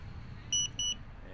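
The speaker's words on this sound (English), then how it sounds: "So you heard that little beep beep beep. That means that it's good to go, and it knew you pushed the button." A GEPRC Crocodile Baby drone gives two short, bright electronic beeps right after its button is pressed, close by and alone over a faint background hum.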